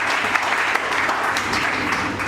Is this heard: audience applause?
yes